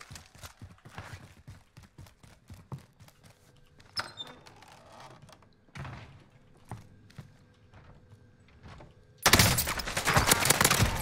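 Gunfire in the shooter Warzone: rapid bursts of shots and clattering impacts repeat throughout, fairly close, ending in a dense, loud volley of fire.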